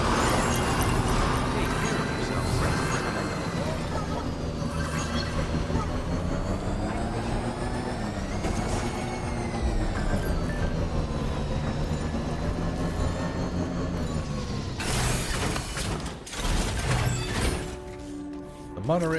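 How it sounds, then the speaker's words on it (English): An electrified monorail runs in the video game Death Stranding 2, giving a steady, loud, tonal hum and rumble with wavering pitch that rises into a noisier surge near the end. Voices are heard at times. "We can use the monorail to transport huge quantities of cargo and materials, even vehicles."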